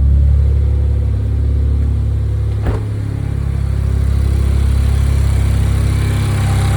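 A Honda Accord engine idles after new NGK Laser Iridium spark plugs are fitted, a steady, loud low hum heard up close with a brief click midway, and no talking.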